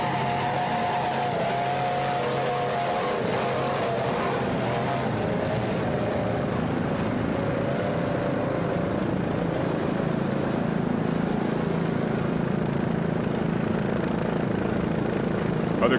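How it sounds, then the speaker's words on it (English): A 36-foot Cigarette racing powerboat with twin 500 hp Mercury engines drones steadily at a distance, a continuous moderate roar with a faint higher whine early on. "36-foot cigarette with Sergio Allegre, the driver, and Michael Carcetti, the throttleman."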